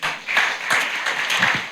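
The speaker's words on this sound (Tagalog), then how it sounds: "Palakpakan natin si Lord" A church congregation gives a short round of applause, a brief, moderately loud patter of many hands clapping, somewhat distant and without speech.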